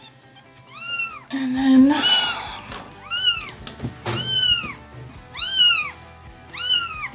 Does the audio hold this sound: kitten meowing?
yes